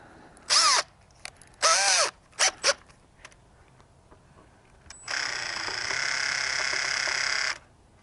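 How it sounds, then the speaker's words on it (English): A power drill with a 5mm bit drills holes in a truck device mounting plate, several short close bursts of whirring and then one longer steady run of a few seconds. "So it says use a 13/64 or a 5mm drill bit to drill the holes."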